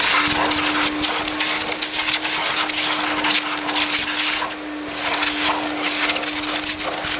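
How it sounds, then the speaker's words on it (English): A vacuum cleaner sucks up filings and dust from a concrete floor during surface preparation, heard as a loud, steady roaring whoosh with a constant motor hum that continues unbroken throughout. "So I'm just going to go ahead and grab a vacuum."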